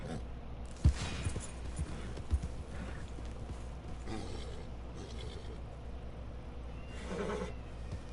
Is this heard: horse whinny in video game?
yes